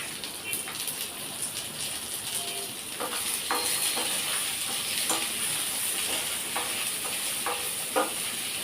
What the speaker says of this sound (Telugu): ఇది కొంచెం మంచిగా వేయించేసుకోవాలి ఇది వేగుతూ ఉన్నప్పుడే